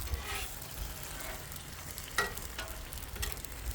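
Beef and marinade sizzle on a Blackstone griddle outdoors, a soft steady frying hiss with occasional scrapes and a single sharp metallic tap, fairly quiet and without talk.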